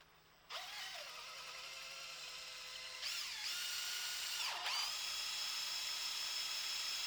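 A power drill whirs up close in three bursts, its high motor pitch dipping and rising as it bites into material.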